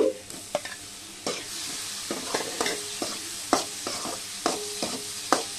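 Tomatoes sautéing with salt and a splash of water for koi fish curry, a soft sizzle punctuated by repeated sharp spoon strikes and scrapes against the pan every half second or so, close and without speech.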